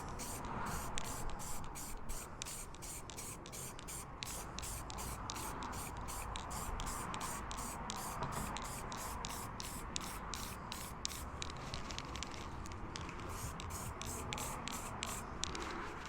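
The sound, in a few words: spraying light coats of paint on tank model parts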